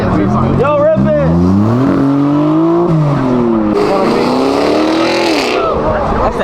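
A Maserati MC20 supercar revs hard at a supercar gathering at sunset, its engine note climbing and falling through loud, sweeping pitch changes, close by, with excited voices shouting over it.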